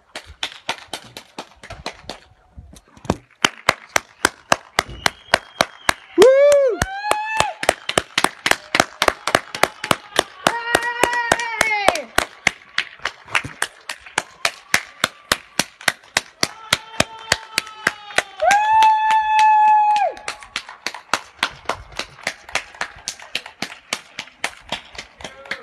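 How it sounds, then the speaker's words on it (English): Fireworks crackle and bang in a rapid, continuous run of sharp reports at a Clap for Our Carers celebration in Clacton on Sea, broken by several rising whistling tones. "we've got fireworks going off as well to celebrate"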